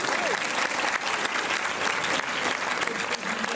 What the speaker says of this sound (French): Vous pouvez l'applaudir dès maintenant.